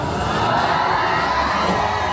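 A party crowd aboard the Disney Wonder cruise ship screams and cheers together in one loud, dense, sustained roar of many voices, close and continuous throughout.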